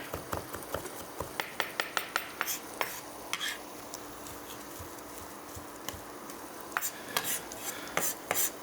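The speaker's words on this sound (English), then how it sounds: "Just give it a little chop here." Garlic chopped with a knife on a board while cooking chilli cumin dal, heard as a run of sharp, close taps in uneven bursts over a low kitchen background, with no talking.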